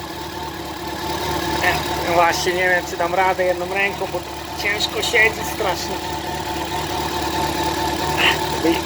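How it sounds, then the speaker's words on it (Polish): Yamaha FJR 1300 motorcycle engine idling steadily with a mid-pitched, even throb, close by and continuous, while someone talks over it throughout. "Słychać jak silnik chodzi."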